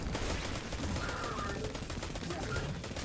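Rapid bursts of gunfire from the shooter game Destiny 2 fill the moment, dense and loud with a steady rattling texture throughout, backed by game effects.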